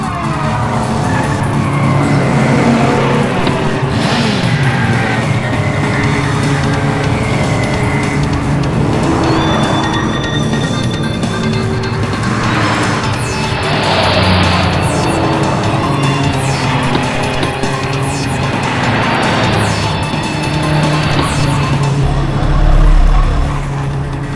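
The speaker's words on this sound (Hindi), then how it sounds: "गाड़ी नंबर 5 सबसे आगे जाते हुए से चला रहे हैं डोमिनिक डिसूजा" Race cars roar past during a televised race, engines droning loud and steady with repeated swelling passes and bursts of tire noise, no voices heard.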